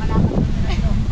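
Strong wind buffets the microphone at an open Pacific Ocean view deck, a steady low rumble of gusts running the whole moment with faint surf underneath and voices present.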